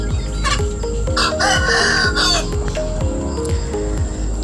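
Chickens in a backyard coop, some sick with swollen faces and snoring, as roosters crow and hens cluck over one another, loud and near, with insects chirping steadily underneath.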